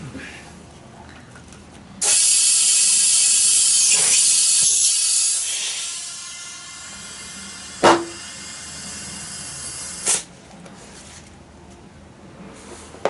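A scooter tire on a Honda Today AF61 rear wheel is inflated with a long, loud hiss of compressed air, then a sharp pop and a second crack as the bead seats onto the rim.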